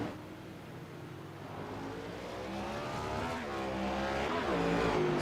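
A race car at Circuit of the Americas holds a sustained, droning engine note under power, pitch climbing and wavering as it runs on and grows slightly louder toward the end, heard alone from a distance.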